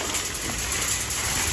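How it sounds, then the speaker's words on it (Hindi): Heavy rain pours down in a dense, steady hiss that fills the whole moment without a break. "बारिश इतनी तेज है कि ये देखें जी"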